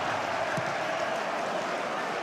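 Some 29,000 fans applaud in a football stadium at a Dynamo Dresden match against 1. FC Magdeburg, a broad, steady roar of distant clapping and crowd noise filling the whole stretch without break.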